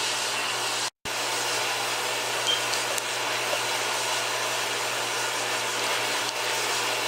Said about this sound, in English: I'm using the smaller end mill because I want this to be pretty flat